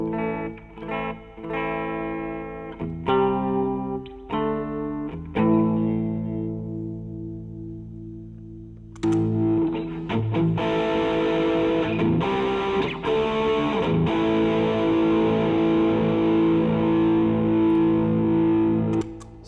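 Electric guitar notes ring out clean at first, then, with an MXR EVH 5150 Overdrive pedal switched on, change to a thick overdriven tone with long sustain.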